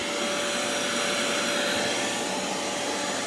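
A shop vac runs steadily at close range, cleaning out a small cavity where mice had nested, with a constant loud whooshing roar and a high steady whine and no talk.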